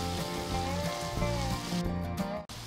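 Ginger garlic paste and tomato sautéing in a pan for potato puttu, a steady close-up sizzle and hiss that holds throughout with a brief dropout near the end, no voice.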